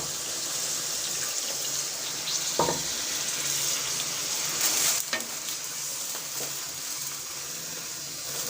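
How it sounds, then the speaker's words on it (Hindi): Leftover chickpea cooking water is poured into a frying masala, giving a steady sizzle with splashy bursts and stirring scrapes, close and fairly loud. "अब हम इसमें बाकी चनों का बचा हुआ जो पानी है वो ऐड कर देंगे।"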